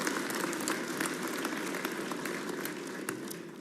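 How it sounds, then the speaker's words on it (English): An audience at the New Mexico governor's 2025 State of the State address breaks into applause, a dense, sustained wash of clapping that fills the hall and holds steady throughout. "You can clap for that."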